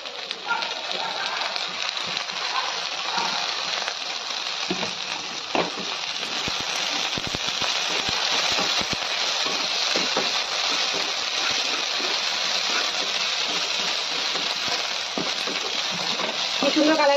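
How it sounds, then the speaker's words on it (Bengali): Drumstick flowers frying with chopped onion and green chilli in a pan, a long, steady hiss broken by scattered clicks and stirring scrapes, with a voice talking over it. "এটা আর একটু ভেজে দেবো আমি একটুখানি, তারপরে একটু নাড়বো।"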